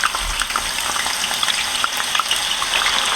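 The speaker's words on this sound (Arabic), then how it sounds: "هنزل فيها البطاطس علشان احمرها نص تحميره" Potatoes half-frying in hot oil for freezing, a steady, close, dense sizzle with bubbling that runs the whole time, with no talk.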